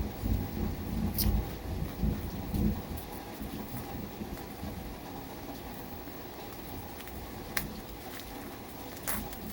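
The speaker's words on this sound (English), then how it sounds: "the rain is falling and it's like falling through the little stove thing" Rain falling and pattering nearby, some of it falling through a small stove fixture, with a low rumble underneath and a few sharp clicks; a voice murmurs faintly at times.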